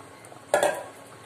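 Tamarind water is poured into a pot of tiffin sambar (idli sambar) on the stove, making one brief, close splash with a faint clink of the vessel. The splash dies away within a moment in a quiet kitchen, with no talking.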